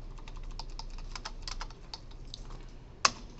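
Someone types on a computer keyboard in a lecture room, with a quick, steady patter of light key clicks that slows briefly and ends in one sharper tap.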